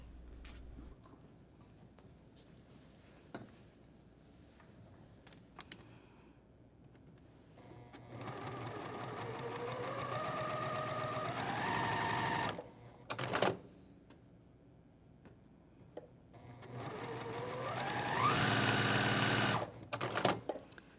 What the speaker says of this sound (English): So I'm going to sew directly on those lines.